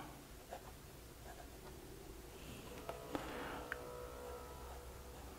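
Soft, close scratching of an Asvine P20 fountain pen with a medium nib writing in Diamine Ace of Blue ink, faint and steady over a low background hiss with a few small taps.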